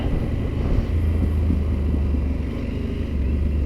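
Yamaha Super Tenere 1200 motorcycle engine on throttle, a steady, close low-pitched drone with a rising note partway through, heard alone under buffeting wind.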